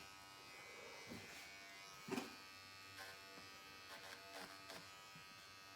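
A Remington electric shaver runs over fabric and picks out loose thread. It gives a faint, steady buzz with short rasping bursts as the blades catch threads, and no one speaks.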